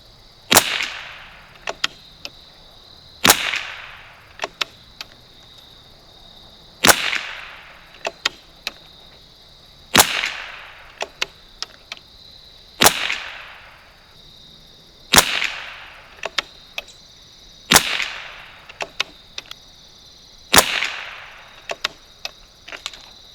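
A 1972 Anschutz Model 54 match rifle fitted with a 3x9x32 scope, fired during ammo testing: sharp single shots spaced a few seconds apart, each with a quick decaying crack, plus small clicks of handling between shots.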